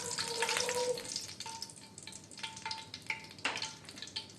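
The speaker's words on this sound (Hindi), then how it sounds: "इसको थोड़ा सा फ्राई करेंगे।" Desi ghee sizzles and crackles in a pan while semolina halwa fries, giving close, moderate spitting and crackle with a few stirring clinks and no talking.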